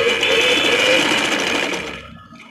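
Sewing machine stitching a seam on a ladies' kurta, a fast, steady close whirring run that slows and stops near the end.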